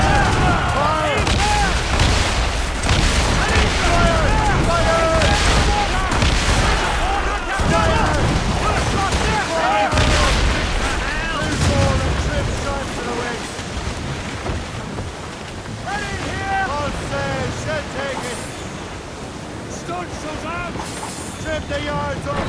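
Ship cannons thunder in a naval battle in Assassin's Creed Rogue, repeated heavy booms rolling over wind, waves and creaking sails, with crew shouting loudly across the whole stretch.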